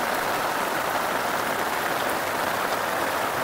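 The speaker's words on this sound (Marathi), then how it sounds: "पाऊस बाबा जोरदार चालू झाला" Heavy rain pours down steadily on a farm at night, a loud, dense and unbroken hiss of falling water.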